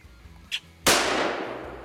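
Single sharp rifle shot fired at a Russian boar during a hunt, a loud close crack followed by a rolling outdoor echo that fades slowly, preceded by a brief faint click.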